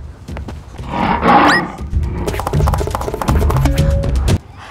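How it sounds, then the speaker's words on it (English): A lion roars loudly and close, a deep rough bellow that swells and fades, followed by several seconds of rumbling and noisy animal sounds, with no talk. "It's a lion!"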